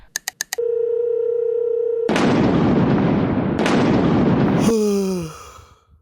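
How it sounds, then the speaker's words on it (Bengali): A phone call being placed: a few quick keypad beeps, then a steady dial tone, followed by loud harsh noise bursts and a falling tone that fades out. "ইন্দ্রকে একটা ফোন দিই"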